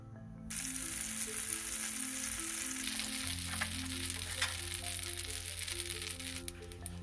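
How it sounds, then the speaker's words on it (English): Butter hits a hot pan and breaks into a bright, continuous sizzle heard up close, with a faint low hum underneath. "First we shall heat a pan and take butter."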